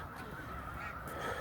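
A dense mass of snow geese honking during migration at Middle Creek Wildlife Refuge, a continuous distant clamor of many overlapping calls, faint and steady.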